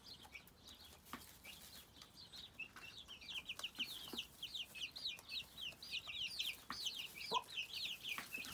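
Young chicks in a small outdoor run cheep and peep in a quick, continuous chorus of high chirps. The sound is faint and distant, with soft rustling underneath and no voices.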